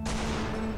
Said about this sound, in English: Now let me operate this cannon.